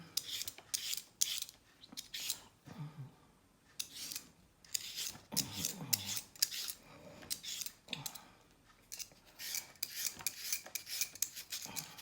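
Knife cutting onion for a vegetable stew, a rapid series of close, crisp slicing strokes in uneven bursts with brief pauses.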